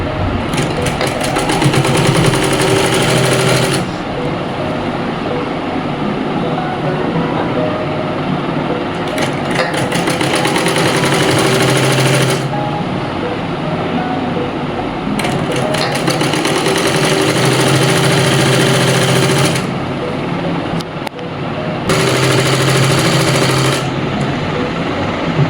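An electric sewing machine stitches trousers in bursts, its rapid mechanical whir starting and stopping four times with short pauses between runs, loud and close.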